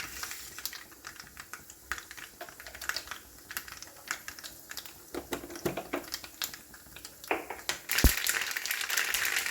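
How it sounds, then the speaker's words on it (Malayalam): Mustard seeds pop in hot oil while a garlic pickle is being made, with rapid irregular crackles and snaps spread through the clip. They are close and fairly quiet, ending in a louder burst of hiss. "കടുകൊക്കെ പൊട്ടിക്കഴിഞ്ഞു."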